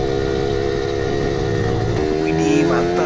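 An original, well-kept Suzuki Satria Lumba motorcycle engine revs up on a busy street, a steady droning whine whose pitch climbs in the last second, loud and close throughout.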